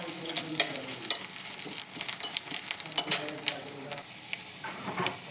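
Black cumin seeds tossed into fried chopped garlic in a hot pan, a busy crackling sizzle with quick popping spits and stirring scrapes, fairly soft and close.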